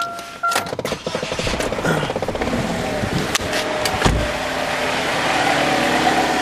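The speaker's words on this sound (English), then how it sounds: "I'm gonna crank it up one more time and get down here." A 2007 Chevy Cobalt with a 2.2L Ecotec engine cranks briefly with a whirring starter, catches, and settles into a steady, close idle.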